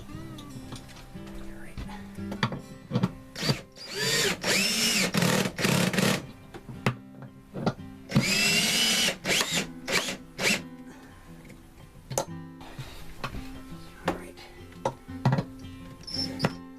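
A power tool on a Jayco travel trailer runs a nut and washer down onto a bolt in short stop-start bursts, two longer whirring runs among many quick clicks and pulses, close up with no talking.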